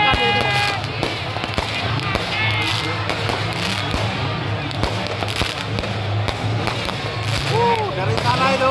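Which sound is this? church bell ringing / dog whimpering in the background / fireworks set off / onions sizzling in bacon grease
fireworks set off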